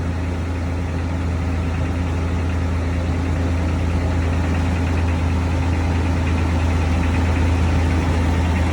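A 2000 Ford Ranger pickup engine idles steadily and loudly with a newly replaced muffler, a constant low rumble with a smooth, even exhaust note and no pauses.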